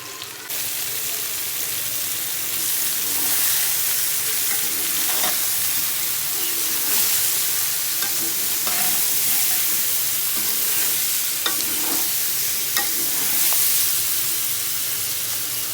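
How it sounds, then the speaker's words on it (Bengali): Raw mango pieces, about three kilograms, gently stirred with a little salt for a sweet-sour pickle, giving a steady moist rustling and squelching texture throughout with faint clicks, close and continuous, no talking. "এখন আলতোভাবে নেড়েচেড়ে একটু মিশিয়ে নিতে হবে।"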